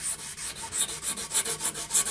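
Close, rhythmic sanding with a 240 grit pad, about a dozen quick back-and-forth rasping strokes in an even beat, with no voices.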